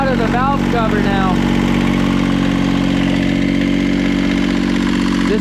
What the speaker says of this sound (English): This engine is definitely shot.